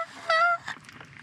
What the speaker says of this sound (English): look at him. We got a duck.